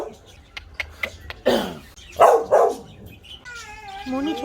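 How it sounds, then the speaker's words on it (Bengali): A dog at a seaside resort's small zoo in Mandarmani gives several sharp barks and yips in quick succession, close by, followed by a brief whining voice. "ছোট জু টাইপের আছে, ওখানে মনিকে ডগি দেখাতে।"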